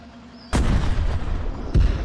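A tank gun shell going off in Tank Mechanic Simulator: a sudden loud boom with a rumbling tail, then a second heavy blast moments later, close and forceful.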